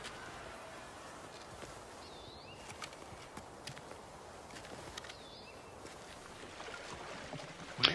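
A boat crosses a lake, heard as a steady wash of water and wind noise with faint scattered knocks. There is no talking and it stays fairly quiet throughout.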